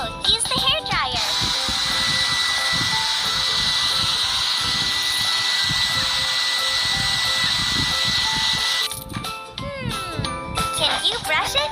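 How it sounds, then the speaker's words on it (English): A hair dryer in a Barbie video game gives a steady synthetic whooshing blast for several seconds, framed at start and end by chiming game sound effects and a voice talking over it. "Oh, use the hair dryer."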